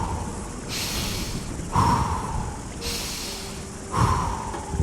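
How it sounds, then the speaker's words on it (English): A full, quick inhale followed by a relaxed, open exhale during a guided breathwork meditation, repeated twice in close, audible cycles with no talking. "breathe in fully, about 2 seconds, and then exhale fully by just relaxing and letting the air come out"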